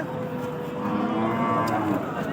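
Cow at a cattle market with a bull calf at her side, lowing in one long, steady moo that holds across the whole stretch, close and fairly loud, amid a busy crowd murmur.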